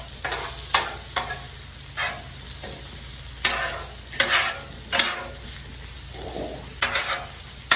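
Poblano peppers and onions frying on a grill, a soft steady sizzle broken by a series of sharp scraping and stirring strokes as the vegetables are moved around, close and alone without talk.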